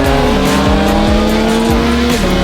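A supercar engine screams at full throttle, very loud and close, with a high harsh wail that shifts pitch several times across a short burst.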